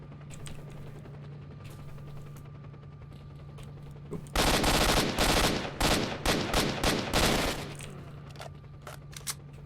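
Gunfire in STALKER: Shadow of Chernobyl: after a steady background hum, a loud burst of rapid automatic shots runs for about three seconds, followed by a few scattered single shots.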